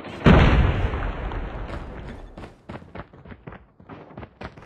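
A frag grenade detonates in Call of Duty Mobile, one loud close blast with a long rumbling tail, followed by a scatter of sharp gunshots and pops in the distance.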